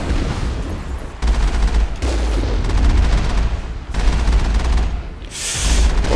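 Gunfire in the video game Mass Effect pounds away loud and dense, a steady barrage of shots and booms with brief pauses, filling the whole stretch without any talking.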